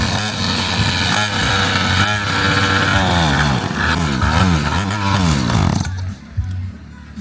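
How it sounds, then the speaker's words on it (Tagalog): A faulty motorcycle engine turns over and keeps running loud and close, its pitch rising and falling through revs for about six seconds before dropping away, with voices talking over it. "O sige, paandarin mo yung motor mo."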